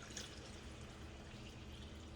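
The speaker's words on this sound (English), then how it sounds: "we're gonna add some plain water" Plain water pours steadily into a pot of chicken curry with coconut milk, a soft continuous trickle and splash at low level, with no voices.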